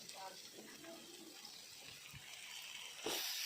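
Vegetables such as cauliflower and potato are rinsed under running tap water, a soft, steady trickle with faint background noise and a brief louder splash at the end.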